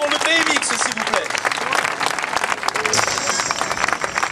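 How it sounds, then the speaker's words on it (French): A crowd at a BMX championship applauding the senator-mayor, a loud, steady wash of clapping and cheering throughout while a voice speaks over it. "Je vous demande de l'applaudir, s'il vous plaît, très très très fort."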